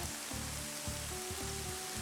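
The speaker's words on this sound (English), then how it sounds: "Oh god, it's raining." Steady, dense rain patters in a video game, a continuous hiss with low rhythmic thumps and faint tonal hums beneath, filling the whole moment without speech.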